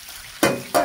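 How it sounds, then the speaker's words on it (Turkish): Chopped onions frying in butter in a pan, two short bursts of loud sizzling as the food is stirred, close by, with a quieter frying hiss between them and no talk. "Burada soğanım kavruldu gördüğünüz gibi."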